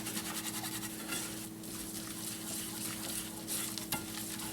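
Flour is stirred into a hot pan over medium heat to start a creamed-eggs sauce, giving a soft, continuous sizzle with faint scraping of the spoon, quiet and steady with no talking.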